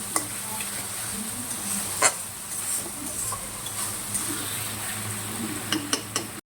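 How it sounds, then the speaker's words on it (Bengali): Spice masala with ginger and garlic sizzling and frying in a pan for a mutton dish, a steady soft hiss punctuated by clicks and scrapes of stirring against the pan. "এইভাবে করে মশলাটাকে ভালো করে একটুখানি নাড়িয়ে নিচ্ছি 2-4 মিনিট।"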